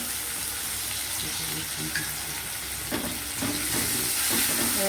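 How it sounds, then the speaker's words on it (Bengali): Onions sizzle and crackle in hot oil with ground chilli and garlic paste, a steady frying hiss, with occasional clinks of stirring. "পেঁয়াজটা ওখানে ভাজা ভাজা হয়ে গেছে"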